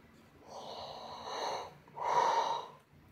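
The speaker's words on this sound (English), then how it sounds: "Did you yawn after I yawned?" A person yawns twice in a row, each one a breathy, drawn-out exhale with a voiced hum that rises in the middle. The yawns come close and fairly loud, and no one talks over them.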